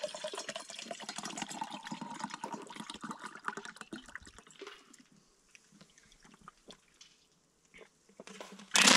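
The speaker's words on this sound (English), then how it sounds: "Fill her full of water." Tap water pours steadily into a steel tumbler at close range for about four seconds, then gives way to quieter handling clatter and a sharp burst at the end.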